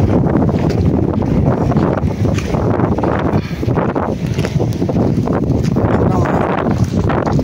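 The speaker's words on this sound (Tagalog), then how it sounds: "mahangin talaga at maulan" Strong wind on a rainy day buffets the microphone continuously, a heavy roaring rumble with gusting texture throughout.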